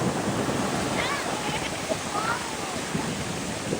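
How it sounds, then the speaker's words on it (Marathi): Sea waves wash and surge in a steady roar, mixed with gusty wind buffeting the microphone, while voices talk faintly over the surf. "ही लाट बघा, लाट ही लाट आहे का काय आहे"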